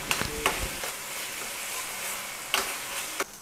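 Ginger garlic paste and turmeric frying in a pan, a steady soft sizzle broken by a few sharp clinks and scrapes as spoonfuls go in, close by with no voices.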